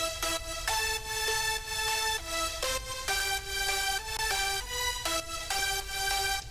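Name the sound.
layered synth lead sounds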